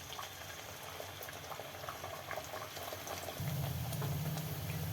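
Maddur vada frying in a pan of hot oil on medium heat, a steady close sizzle and bubbling that thickens with a low rumble toward the end.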